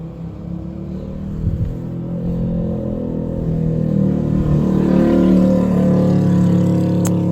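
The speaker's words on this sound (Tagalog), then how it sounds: "Langas kayong mga motor, guys." Loud motorcycles roll past outside a house, their engines a continuous low rumble that swells gradually as they draw nearer.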